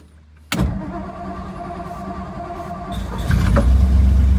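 A 1956 Ford Thunderbird V8 catches with a sudden loud burst and settles into a steady, rough idle close by, then revs up slightly near the end.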